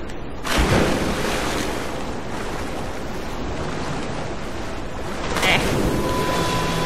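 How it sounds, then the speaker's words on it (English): Heavy water splashing in Rise of the Tomb Raider, with a loud plunge at the start and another surge near the end over continuous rushing surf-like wash. "I don't know why I jumped into the water."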